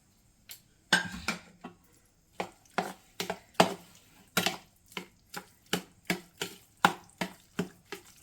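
Curd rice being mixed by hand or spoon in a separate bowl, giving a steady series of soft, wet, squelching pats and clicks at close range, repeating roughly every half second.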